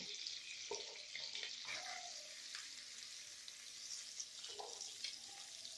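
Chopped onions frying in hot oil tempered with cloves and small cardamom, a steady soft sizzle and crackle close by, with occasional stirring clinks against the pan.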